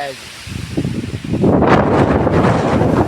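Gusty wind roars and buffets the microphone, building stronger after the first second and staying loud to the end.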